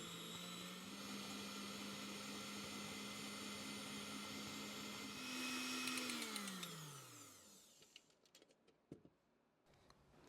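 Electric hand mixer beating room-temperature butter and sugar for a pear and almond cake batter, a steady loud motor whir that rises in pitch, then winds down and stops, followed by a few faint clinks.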